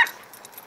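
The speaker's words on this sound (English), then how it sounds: "Whoa, we got a pit bull here." A pit bull at a dog park, a short yip or whimper right at the start, then fading into quiet outdoor background.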